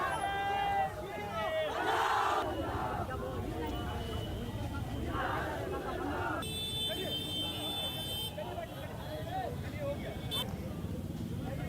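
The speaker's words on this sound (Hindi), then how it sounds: "नुपुर शर्मा के खिलाफ जमकर नारेबाजी की जाती है" A protest crowd gathered after Friday prayers at Gopali Chowk in Bihar, shouting slogans against Nupur Sharma; a loud, continuous roar of many voices with rising chants, heard some way off amid street noise and a reporter talking.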